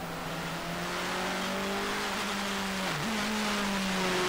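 An Audi TT ex-DTM race car competes at the start of a 2007 Dutch Supercar Challenge race. Its engine drones loud and steady with a strong tonal whine that dips briefly mid-way, as on a gear change, then climbs again.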